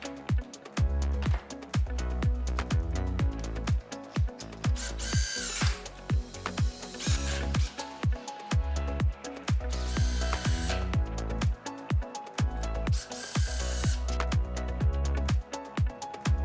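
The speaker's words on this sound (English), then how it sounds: "Follow the video demonstration to drill holes in the door frame." A power drill bores mounting holes into an aluminum folding door frame, running loud and steady with brief stops and restarts across the whole stretch, and nobody speaking.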